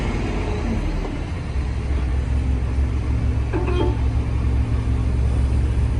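A heavily loaded truck carrying 25 to 30 tonnes grinds uphill on a Maharashtra highway in summer heat, its engine a steady, loud, close low rumble with a brief hiss near the middle, and no voices.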